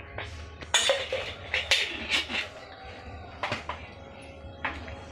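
Small pan set down on a gas stove and ghee spooned into it, giving several sharp metallic clinks and scrapes of a spoon against cookware, close and fairly quiet.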